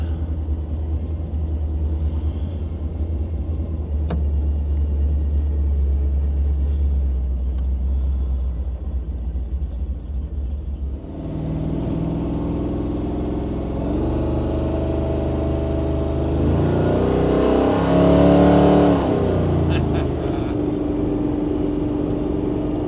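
A 1935 Ford coupe's engine runs steadily at a low idle rumble, then revs up with a rising, louder mid-range roar that swells and falls before settling, close and with no talk over it.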